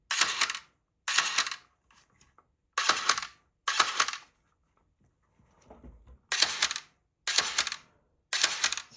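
A Pentax 645 medium-format camera with its side panels removed, fitted with a battery grip and fired repeatedly, giving crisp mechanical shutter and winder clatters in quick bursts with a faint whine and short pauses between them.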